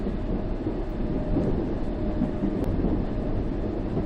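London Underground train in a video game running smoothly along an empty line on an early-morning shift, a steady loud rumble with a continuous rail roar and no clear clickety-clack beats.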